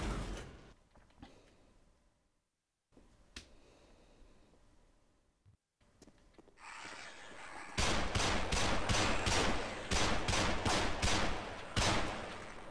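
Gunshots in Half-Life VR: after quiet creaks and mechanical clunks, a rapid string of loud, evenly spaced shots rings out close by and fills the second half.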